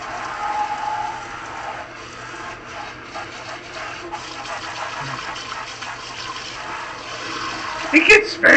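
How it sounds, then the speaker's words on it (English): A handheld water sprayer with low water pressure sprays steadily while cleaning up, giving a constant close hiss that runs throughout and swells into a few louder bursts at the end. "Say hello to my Spraginator! It sprays a lot of water!"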